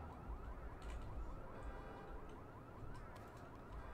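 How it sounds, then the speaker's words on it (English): A car alarm in the video game Watch Dogs sounds continuously, a steady wailing and warbling tone held at moderate loudness for several seconds with no talk over it. "What if I just set off the alarm for..."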